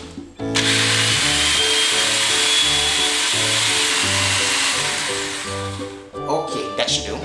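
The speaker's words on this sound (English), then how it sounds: "I'm going to run the breadcrumbs through a food processor" Food processor grinding breadcrumbs for shrimp patties, a loud steady whirring motor running in pulsed bursts for several seconds, then stopping, with a brief clatter at the end.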